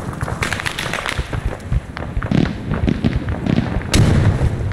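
Frag grenade explosion in the military shooter Arma 3, heard amid a busy firefight: sharp bursts and deep thuds scattered through the whole stretch, with the loudest blast landing near the end.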